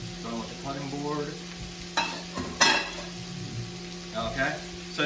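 Vegetables frying in a hot pan for a bacon vegetable hash, a steady soft sizzle broken by clattering stirs and scrapes of a utensil against the pan, with no talking.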